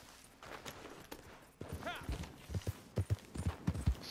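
Horse hooves clip-clop on the ground in the video game Red Dead Redemption 2, first sparse and soft, then a quicker run of louder thuds, with a brief whinny and a voice speaking.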